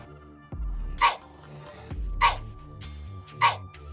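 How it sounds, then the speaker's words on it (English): A white cat character from the Sprunki video game voices a bark-like "hey", repeated three times at steady intervals over a sustained musical backing, each call short, bright and clipped. "Moving on to Wenda, she is a white cat who says hey in her vocals, which sounds more like barks, at least to me."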